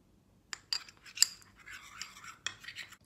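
A rice water face pack being stirred in a small bowl, with a few sharp clicks and clinks from the spoon followed by brief bursts of wet scraping, fairly close and quiet.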